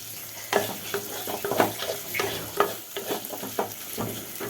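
Chicken sizzles as it is reheated in a hot pan, with a steady frying hiss under repeated scraping stirs of a utensil against the pan, close up and with no voices.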